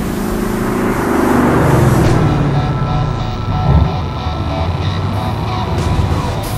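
A car engine in the virtual reality game GTA VR runs steadily with a broadband rumble, rising briefly as if revving, near and fairly loud throughout.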